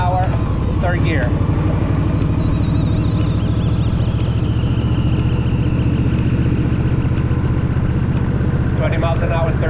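An Indian Scout Bobber motorcycle cruises on a freeway in third gear, its engine a loud, steady drone with harmonic hum and heavy wind rush from start to finish, and a rider talks briefly over it.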